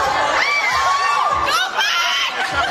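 A crowd at a mall show at SM City Tarlac, the Pixie Add to Heart Wish List Tour, shouts and cheers loudly and close by, with high screams and whoops rising and falling over the whole stretch.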